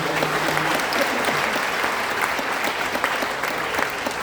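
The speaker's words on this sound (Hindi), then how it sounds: "तालियां बजा दीजिए।" An audience at a Hindi comic poetry gathering applauds, loud dense clapping filling the space evenly throughout.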